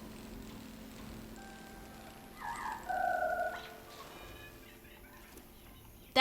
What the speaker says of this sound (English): That is a different bird call.